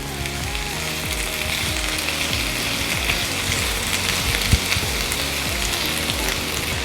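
Bottle gourd pieces and chopped tomatoes sizzle and fry in a pan for a Telugu sorakaya pachadi, a steady close crackling sizzle with faint stirring scrapes and no voices.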